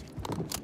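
Quick metallic clicking and clatter of a weapon being reloaded in the Warzone shooter game, a brief burst of mechanical handling noise at moderate volume.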